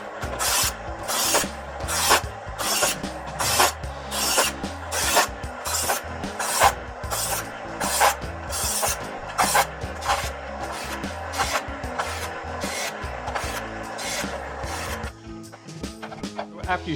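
An electric knife sharpener hones a kitchen knife in a rapid series of short, loud, rasping strokes grouped in steady rhythmic passes, close up, over a faint motor hum.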